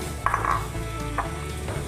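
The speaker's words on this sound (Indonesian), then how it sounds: "Kita aduk-aduk." Soursop leaves are stirred in boiling water in a pot, with a utensil scraping and clinking against the pot over a steady bubbling hiss, close by and without talk.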